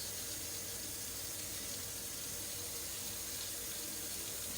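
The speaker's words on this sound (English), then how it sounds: "Let me rinse it off a little bit." A kitchen tap runs steadily as a spatula is rinsed under it, a continuous close hiss of splashing water without pauses or voices.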